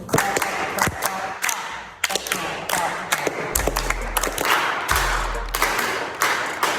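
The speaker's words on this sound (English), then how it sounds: "We're gonna get the pattern for the clap" A group claps together in a rhythmic pattern, sharp hand claps landing in quick clusters over low thumps and some background noise.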